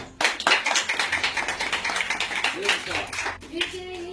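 Steady clapping from a crowd, a dense patter of many hands that carries on without a break before fading near the end.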